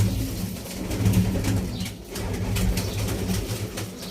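Breeder pigeons coo continuously inside a crowded loft, a dense overlapping murmur of low calls with occasional faint wing sounds and no voices.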